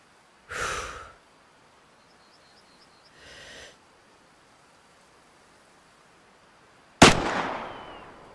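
A hunting rifle shot in the game Way of the Hunter cracks sharply near the end and rings off in a decaying tail, after two earlier soft breathy bursts over quiet surroundings.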